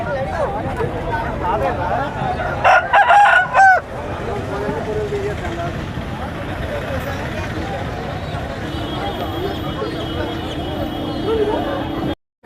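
Country chickens and roosters at a busy village poultry market, with fowl and goose-like honks sounding in brief bursts amid a constant hubbub of crowd chatter and nearby voices.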